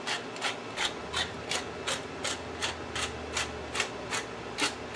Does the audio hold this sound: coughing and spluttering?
no